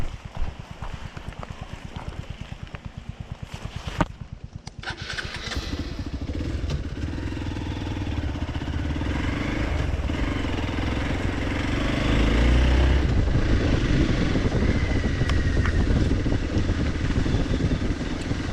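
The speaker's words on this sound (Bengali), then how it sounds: "ট্রেলের মাঝে দিয়ে আমরা বাইক চালাচ্ছি" A Hero XPulse motorcycle rides along an off-road jungle trail in light monsoon rain, its engine running steadily and close, with rattles and clatter over the rough ground and revs rising toward the end.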